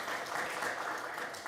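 An audience at a Shabbat evening service claps together, a dense steady patter of many hands, close and even, with no break across the short burst.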